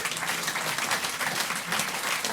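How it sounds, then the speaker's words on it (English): An evening folk club audience gives a dense, continuous round of applause, close and fairly loud, with no voices over it. "Let's start the evening off with a huge round of applause"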